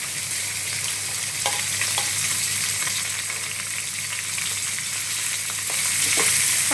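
Minced meat (keema) fries in a pan over fried golden-brown onions, giving a loud, constant sizzle with occasional stirring scrapes, close up and uninterrupted.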